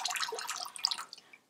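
Water trickling and dripping through a plastic bath toy whale, a brief close run of light splashy drips in a bathtub, fading out at the end.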